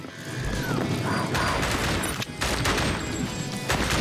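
Gun reloading and firing in the House of the Dead Remake video game: a dense run of mechanical clacks and rapid gunfire bursts over a continuous busy game soundtrack, with no pause.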